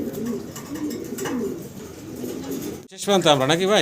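German Beauty pigeons, a breeding pair of male and female birds kept for sale, coo in low, rolling repeated calls close by, and then a voice starts talking over them.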